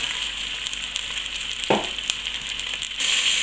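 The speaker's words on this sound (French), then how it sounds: "Lorsque le beurre est bien chaud, donc déposez les saucisses à l'intérieur et faites-les dorer sur chacune de leurs faces" Diots sausages sizzle and crackle in hot butter in a pan, a bright, steady fry with a soft thump as something shifts midway, close and continuous with no voices.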